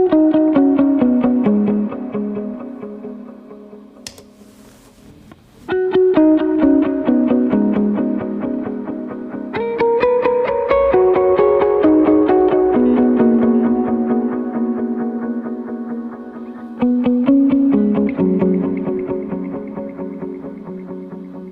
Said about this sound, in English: the moment that you actually add another delay like the timeline, which is a dotted eighth